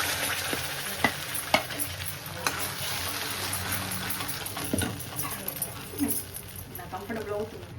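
Ground beetroot paste goes into a hot kadai greased with ghee and sizzles steadily, with scraping and stirring knocks over a continuous frying hiss, close up.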